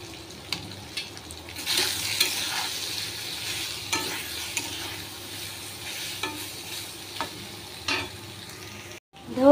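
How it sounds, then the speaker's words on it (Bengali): Soybeans sizzle and fry in a small wok with a little mustard oil, with scraping stirs and clinks over a steady close sizzle and no talking. "এটার মধ্যে আমি সয়াবিনটাকে ভেজে নেব"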